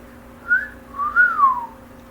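A person whistles in imitation of a man's catcall at a woman: a short rising note, a pause, then a longer rising-and-falling wolf-whistle glide, clear and close over faint background hum.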